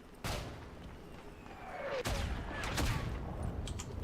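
Distant mortar blasts from friendly lines in the World War I shooter Isonzo, two heavy booms with rumbling tails about two seconds apart over a steady battlefield wash.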